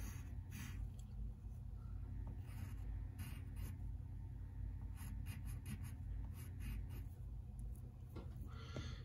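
Pencil scratching on paper while sketching a cartoon leg, a steady close scribble of short strokes with brief pauses and no talk.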